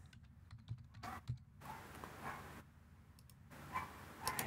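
Typing on a computer keyboard comes through as quick bursts of close, crisp key clicks separated by short pauses, with no voices.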